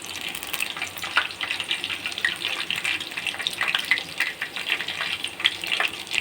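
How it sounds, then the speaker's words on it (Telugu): Onion pakodi deep frying in hot oil, a continuous bubbling hiss with crackly pops that rise and fall steadily throughout, close up and fairly loud, with no voices. "చూసారు కదండి ఎలా డీప్ ఫ్రై లాగా అయినాయో పకోడీ"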